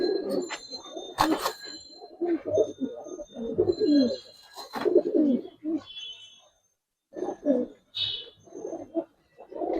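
Domestic Giribaz coloring pigeons cooing and calling in repeated bursts up close as hens are released, with brief wing-flap or rustle spikes and short pauses between calls.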